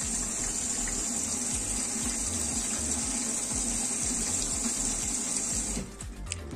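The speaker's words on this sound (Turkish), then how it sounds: "Bakın yumuşatıcı bölümünden su geliyor." Water runs steadily into the fabric softener compartment of a Bosch Maxx 7 washing machine during a reset test cycle. The flow is a continuous close rushing hiss that holds evenly and then cuts off near the end.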